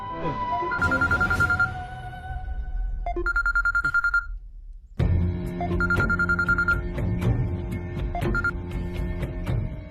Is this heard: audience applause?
no